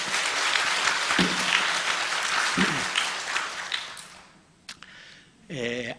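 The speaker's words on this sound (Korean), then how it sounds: "하나님께 영광. 박수." A church congregation breaks into loud, dense applause at a revival service, sustained clapping for several seconds before it fades out, followed by a voice starting to speak.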